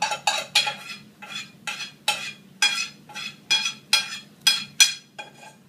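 Rice vermicelli is stirred into a mixture in a pan, with about a dozen close, rhythmic scraping clinks of utensil against pan in even strokes.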